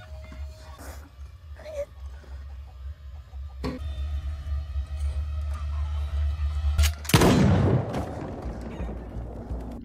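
A single loud, sharp shotgun blast bursts out near the end of a scene in a film. Before it there is a low background hum with a few faint knocks.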